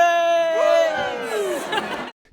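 A training-event team shouts its cheer in unison, a loud, drawn-out chorus of voices rising and falling for about two seconds before cutting off sharply into silence.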